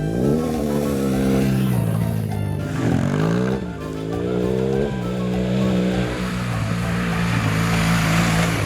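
A BMW R1200 GS motorcycle riding out of town in Armenia, Colombia, its engine droning loudly and continuously with rising and falling pitch as the rider shifts and accelerates.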